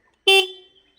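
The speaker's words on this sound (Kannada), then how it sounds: "ಹಾರ್ನ್ ಮಾಡು ಅಂದೆ" A single short, bright motorcycle horn beep sounds close by and fades quickly into silence.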